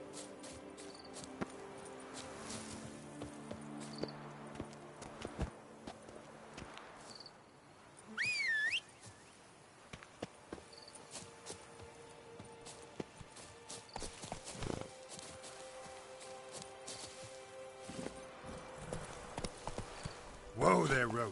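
Roach, the horse in The Witcher 3, trots along with a steady clip-clop of hooves through most of the stretch. Faint ambient whistles and crickets sit behind, and a voice speaks now and then.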